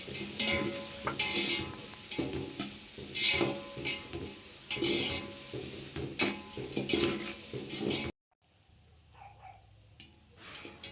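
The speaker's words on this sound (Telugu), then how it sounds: "ఉల్లిపాయలు అరకిలో అండి తరిగి పెట్టుకొని ఉన్నానండి ఇప్పుడు వేసుకుంటున్నా వేసుకున్న తర్వాత బాగా ఏంపుకోవాలండి" Half a kilo of chopped onions fries in a pan with loud bursts of sizzling and stirring scrapes, then falls to a quieter, fainter sizzle near the end.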